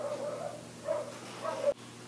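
Dogs bark in the background, three muffled woofs spaced evenly and fairly faint against a steady low hum, ending with a brief cutoff.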